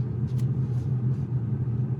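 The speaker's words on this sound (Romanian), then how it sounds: "Mașina e în marșarier și camera merge." BAIC X55 SUV rolling slowly in reverse on a winding road, heard from inside the cabin as a steady low engine and road rumble with no voices.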